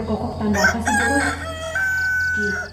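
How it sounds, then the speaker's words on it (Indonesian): A rooster crows loudly and nearby, one long cock-a-doodle-doo call with clear rising and falling notes, heard alone with no talking. "Suara ayam berkokok."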